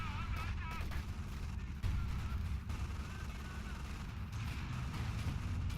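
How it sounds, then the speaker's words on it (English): In a Battle for Caen video game set at Tilly-sur-Seulles, a grenade blows up on a Vickers machine gun position amid continuous rumbling artillery and gunfire, with a commentator talking over the dense battle noise. "grenade goes in on the Vickers"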